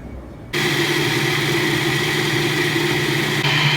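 Food processor starting up and spinning a raw vegan falafel mixture with tahini, garlic and lemon juice: a sudden loud, steady motor whir holding constant after a quiet moment.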